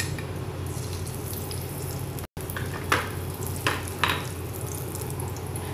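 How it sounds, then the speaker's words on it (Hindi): Cumin seeds and asafoetida sizzle steadily in hot oil for an Indian urad dal, a constant close frying hiss with a few brief stirring scrapes, no talking. "जीरा ऐड कर रही हूँ"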